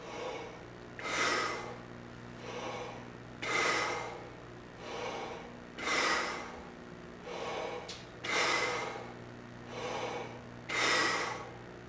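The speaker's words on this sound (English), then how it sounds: "take an additional 5 inhales and exhales without that tube, but add the 2 syllable to the exhalations" Six deep breaths in a steady rhythm for trumpet practice, each a broad, breathy rush of air lasting about a second, close and fairly loud over a low steady hum, with no talking.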